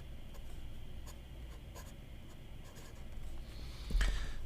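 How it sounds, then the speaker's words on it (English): Scribo La Dotta fountain pen with a flex nib writing on paper, a soft continuous close scratching with small strokes, ending in a brief louder tap or knock. "This is the Scribo La Dotta. Feel the writing flex nib."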